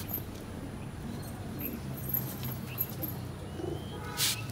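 Pigeons kept in a loft, including an old female, coo softly a few times against a quiet background, faint and at some distance.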